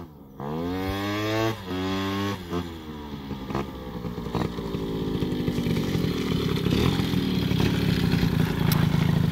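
A motorcycle engine idles with a steady rumble, then revs and pulls away, its droning whine continuing as it rides off.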